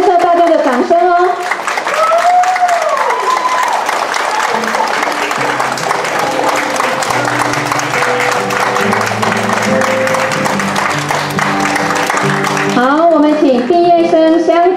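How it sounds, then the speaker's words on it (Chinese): Sustained applause from an audience at a kindergarten graduation ceremony in Yunlin, with background music playing throughout and an announcer's voice at the start and end. "我们一样以热烈的掌声欢迎他们进场"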